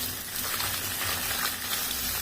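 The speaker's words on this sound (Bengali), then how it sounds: "আরও এগুলো ভেজে তুলে রাখবো।" Boroli fish fry in hot oil, giving a steady, loud, dense hiss of bubbling oil throughout, with no pauses.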